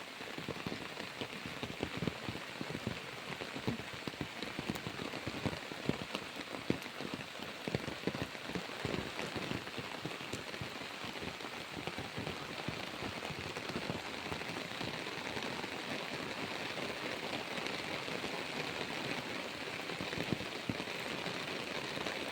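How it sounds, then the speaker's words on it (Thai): Heavy rain pours down steadily, a dense, even hiss of drops drumming on surfaces for the whole stretch. No voices. "ฝนกำลังตกดีเลยค่ะ"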